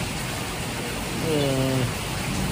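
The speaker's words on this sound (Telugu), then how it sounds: "భయంకరమైన గాలి వాన పడుతుంది" Heavy rain with strong wind makes a steady, dense broadband wash from start to end. Midway a short tonal hum rises and falls faintly beneath it.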